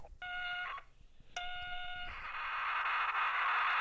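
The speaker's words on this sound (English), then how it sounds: "And that's the sound of the data being saved onto the cassette." A synthesizer's data is saved to a data cassette as two bursts of steady high electronic tone, followed by a dense, continuous hissing warble of encoded data.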